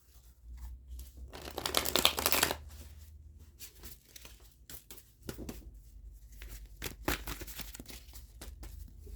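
Tarot cards being shuffled and handled nearby, a burst of rustling and riffling followed by scattered soft slaps and shuffling noises.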